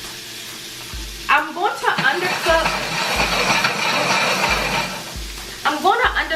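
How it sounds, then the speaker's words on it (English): Shrimp dropped into a hot saucepan burst into a loud, continuous hiss and crackle close up, with someone talking briefly at the start and again near the end. "I'm gonna add in the shrimp"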